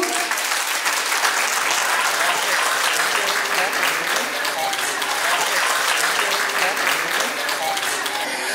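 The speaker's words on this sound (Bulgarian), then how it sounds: "Още веднъж аплодисменти." Loud, dense applause from an awards-night crowd at a cake art competition in Bulgaria, continuous clapping filling the hall, with faint voices mixed in beneath it.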